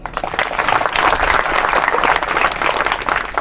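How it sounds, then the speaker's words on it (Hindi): A church congregation claps for Jesus Christ during a Hindi sermon on salvation, a loud, continuous burst of many hands clapping with an uneven, pulsing texture. "यीशु मसीह के लिए ताली मारे"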